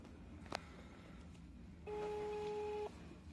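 A brief click is followed by a single steady electronic telephone tone lasting about a second, quiet against a faint background hum.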